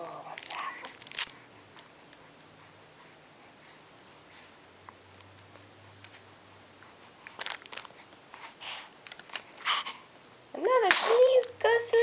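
A two-month-old baby boy gives a short, sharp sneeze near the end, following quiet stretches with soft rustles and an adult voice talking intermittently.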